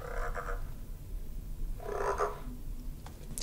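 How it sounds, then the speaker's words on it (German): Frogs croaking inside a closet, two raspy rattling croak bursts with a quiet pause between, fairly faint over a low background hum. "Habt ihr da Frösche im Schrank?"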